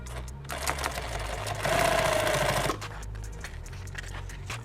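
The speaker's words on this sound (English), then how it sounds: "it's easier just to sew it across." A sewing machine runs a seam across a fabric party bag, a loud, close, steady rapid stitching rattle that swells for about a second in the middle, with no talking.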